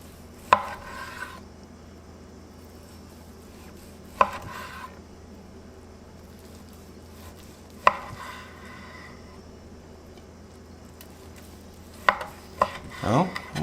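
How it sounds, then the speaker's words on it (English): Knife cutting into an air-fried rotisserie pork loin in a Power Air Fryer Pro, giving several sharp, separate cutting sounds spaced a few seconds apart over quiet background, with a busier flurry near the end. "So let's go ahead and cut into it"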